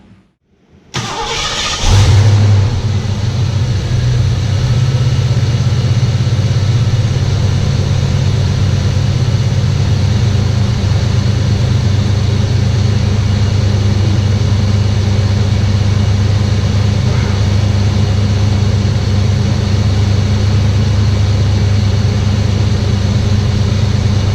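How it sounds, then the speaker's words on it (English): A Ford Foxbody car engine cranks over and catches after a brief pause, then settles into a loud, steady idle that runs unchanged for over twenty seconds, close up with no voices. "got the car fired up"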